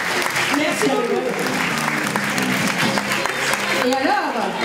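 Audience applause at a Miss Paris Senegal pageant event, steady dense clapping lasting throughout, with a voice speaking over it.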